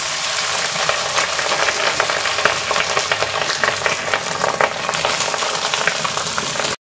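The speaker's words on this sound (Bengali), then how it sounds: "এবার দেখো রাইসটা মিশিয়ে দিচ্ছি।" Rice is stirred into garam masala frying in a pan, giving a loud, continuous sizzle and crackle with scraping stirring noises throughout, then an abrupt stop.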